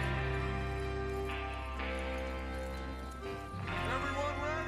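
Horses trot in the Western video game Red Dead Redemption 2. Soft, faint hoofbeats clop along beneath louder sustained music.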